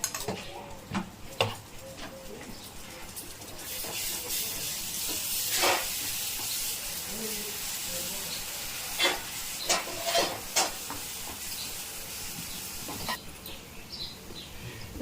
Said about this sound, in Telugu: అది కూడా లైట్గా ఫ్రై చేసుకోవాలి కాబట్టి ఇప్పుడు వేసేసుకుందాం ఒక మూడు స్పూన్లు అల్లం వెల్లుల్లి ఉల్లిపాయ టమాటా పేస్ట్